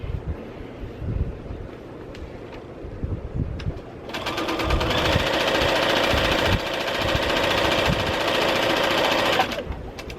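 A sewing machine stitching quarter-inch quilt seams, a loud, steady mechanical whir running for about five seconds after quieter handling sounds, then stopping.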